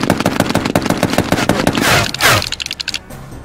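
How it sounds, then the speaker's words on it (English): A Skaven Rattling Gun in a video game fires a fast, loud burst of rapid rattling shots that trails into a few scattered clicks and thumps near the end. "Shooting phase is initiated by Skaven Rattling Gun."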